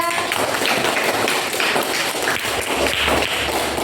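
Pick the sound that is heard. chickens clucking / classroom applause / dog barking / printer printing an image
classroom applause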